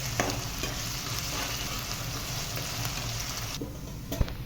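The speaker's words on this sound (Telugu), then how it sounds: "ఈ అల్లం వెల్లుల్లి పేస్ట్ పచ్చివాసన పోయే వరకు బాగా వేగనివ్వాలి." Ginger garlic paste frying in a pan, a steady close sizzle and crackle with a brief clink of a utensil near the end, no voices.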